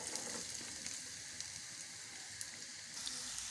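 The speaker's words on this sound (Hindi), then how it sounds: "अब हम इसमें प्याज डालेंगे और प्याज को थोड़ा सा" Onions frying and browning in a pan for dhaba-style mash dal give a soft, steady sizzle with faint crackles throughout, quiet and close, with no one talking.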